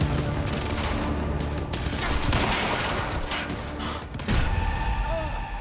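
Sniper gunfire in the video game Quantum Break, a dense burst of loud, rapid shots and impacts in a noisy firefight, with a voice in the background.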